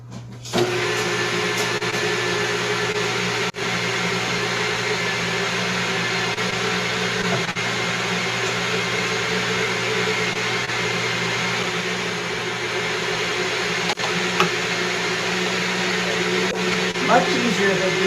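An electric food chopper whirs steadily as it chops hard-boiled eggs and onions for chopped liver, a loud continuous motor drone with a slight pitch change near the end, and no speech over it.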